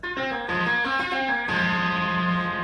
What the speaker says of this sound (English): the 2-hand tapping part